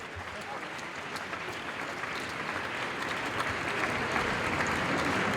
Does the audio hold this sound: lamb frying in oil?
no